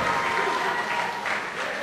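A wrestling crowd applauds and cheers Pac after his senton move, a dense, steady roar of clapping that stays loud throughout, with a faint commentator's voice underneath.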